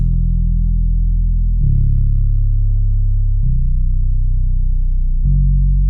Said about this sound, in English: A very low subby sound for the bass.